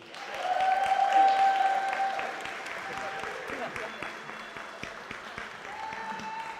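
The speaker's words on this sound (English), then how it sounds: "Let's give a round of applause for Melissa Kahowski." Applause from the crowd at a Rotary Club senior talent show swells quickly and then fades, mixed with sustained musical tones and scattered voices, fairly loud at first before thinning out.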